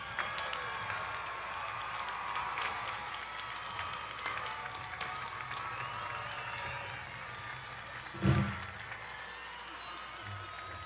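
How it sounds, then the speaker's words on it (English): Graduates at a commencement ceremony applauding their families and friends in the audience, a steady, moderate wash of many hands clapping through a large hall with crowd murmur and one brief louder burst. "Graduates, please rise, face the audience, and applaud your family, your friends, your loved ones."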